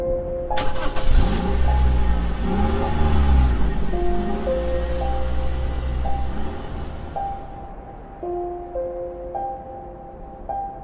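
An old car's engine in a video game starts up and revs loudly, with harmonic tones rising and falling, then settles toward a lower idle while steady electronic game tones sound over it.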